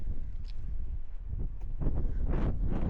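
Wind buffeting the microphone steadily among rocks on an outdoor solo hike, a close, rumbling gust noise that swells slightly toward the end, with faint rustles and no speech.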